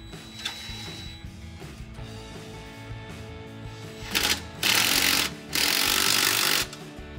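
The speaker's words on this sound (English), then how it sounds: "Now you want to get your drill with your 15 millimeter socket and snug these down." A power drill with a 15 millimeter socket whirs in two or three short loud bursts, snugging down muffler bolts on a Silverado pickup, after a stretch of quieter shop background.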